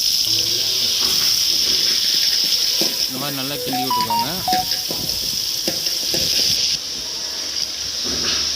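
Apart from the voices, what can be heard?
onions frying in oil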